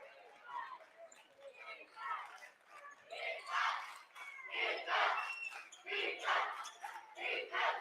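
Student section at a Ridgway vs. Otto-Eldred boys high school basketball semifinal chanting defense, rhythmic crowd chant rising and falling in repeated bursts, heard at a moderate distance in a gym.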